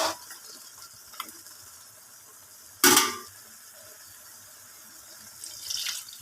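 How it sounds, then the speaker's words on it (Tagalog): Water poured into a pot of pork pata to soften it, heard as a brief rushing splash partway through, with faint simmering hiss before and a softer trickle near the end, no talking. "Mag-add lang tayo ito guys ng water para pampalambot."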